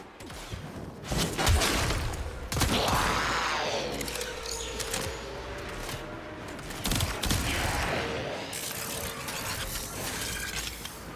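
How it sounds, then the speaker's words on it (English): Enemy gunfire in Warframe, bursts of sharp shots and mechanical clatter arriving in uneven clusters across about eleven seconds, moderately loud with some distant reverberant effects. "He's shooting at me from up there."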